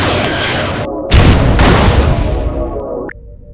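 Enemy ship fire striking the starboard shield in a starship battle video game, a loud close boom that surges into a rumbling blast and fades out within a few seconds.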